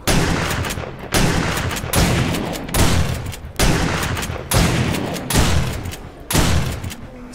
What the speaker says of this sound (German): Schuss mit einer 600er Schrottflinte und er lebt nicht mehr.